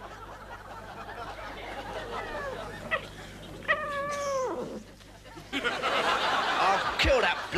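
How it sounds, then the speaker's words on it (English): A cat meows in several drawn-out, wavering cries amid a noisy comedy-show setting, with audience laughter and chatter around it and a louder burst of crowd noise toward the end. "I'll kill that bloody cat."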